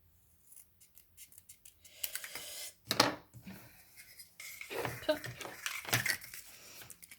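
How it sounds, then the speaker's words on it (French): Scissors cutting paper for a Halloween scrapbook shaker card, a string of close, crisp snips and rustles in irregular bursts, with some handling noise. "Je vais juste couper ceci correctement"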